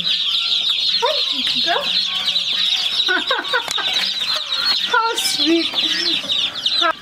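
A flock of about sixty chickens at a farmhouse clucks and chatters continuously, with many overlapping calls close by and some faint talk in the background.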